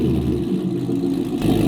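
A catless 2020 Corvette with extreme mufflers, its engine running with a deep, loud rumble that bumps up in a short rev near the end; the moment of ignition itself is not clearly distinct.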